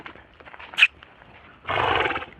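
A North Indian mare, one of several brought to Tamil Nadu for sale, gives a brief sharp whinny followed by a louder, rough, rumbling neigh lasting about a second, close by and with no talking.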